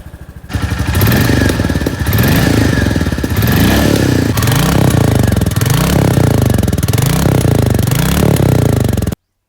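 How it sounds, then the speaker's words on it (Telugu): A Royal Enfield Meteor 350 motorcycle, a 2025 model, idles and revs close by, its thumping single-cylinder exhaust note rising and falling in repeated throttle blips, loud and without talk. "ఒకసారి ఇంజన్ నోట్ అలాగే ఎగ్జాస్ట్ సౌండ్ ఎలా ఉందో ఒకసారి మీరు వినండి"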